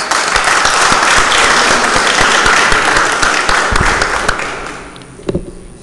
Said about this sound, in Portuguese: solicito a todos que saudemos o pavilhão nacional com uma salva de palmas